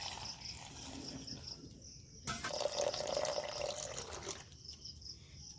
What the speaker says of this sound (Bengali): এবার এই চিড়েটাকে আমি ভালো করে ধুয়ে নেব।